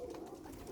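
Domestic pigeons coo on a rooftop loft: a soft, low, continuous cooing that sits close and steady, with no talking over it.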